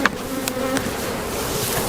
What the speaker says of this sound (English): We got plenty of bees.